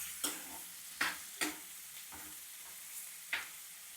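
Onions frying in a pan with a steady faint sizzle, broken by several sharp scrapes as a spoon stirs them at uneven intervals.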